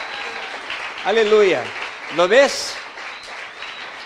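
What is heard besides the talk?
church congregation applauding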